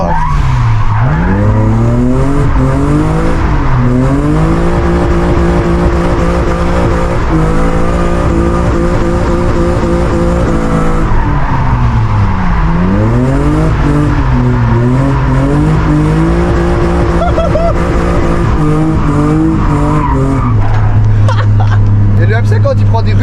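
A BMW E36 with an M50 engine drifts at a drift event, engine screaming continuously and bouncing off the rev limiter, with pitch rising and falling and tires squealing, loud and close throughout, while a man exclaims over it.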